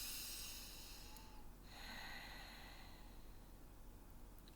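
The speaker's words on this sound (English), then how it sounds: "I'm going to take a deep breath" A single slow, deep breath drawn in and let out through the nose, soft and close, over a steady hiss of background noise, with no talking.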